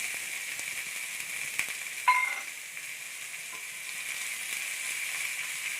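Sliced onion fries in hot coconut oil, giving a soft, steady sizzle and crackle with a sharp clink of a utensil partway through.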